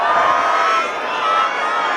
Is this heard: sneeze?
no